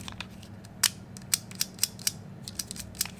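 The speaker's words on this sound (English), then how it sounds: "takedown lever's not properly rebounding" A Taurus GX4 micro 9mm pistol's takedown lever, not rebounding properly, is worked by hand, giving a series of sharp metallic clicks and snaps at irregular intervals, close up and with no talking.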